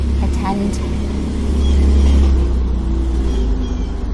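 A car passes by outside, a low rumbling swell that rises and fades over a few seconds beneath someone talking nearby.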